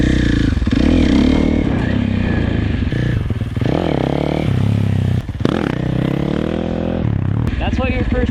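Dirt bike engine revving hard in bursts during a wheelie attempt, with sharp throttle blips, clutch bumps and rattling clatter close by, rising and falling repeatedly over a few seconds.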